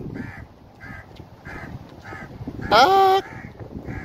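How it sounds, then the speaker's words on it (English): Several crows caw in a steady repeating series at moderate distance along a seaside corniche park, followed by a loud close cry, with a voice briefly exclaiming over the calls. "There are so many crows here."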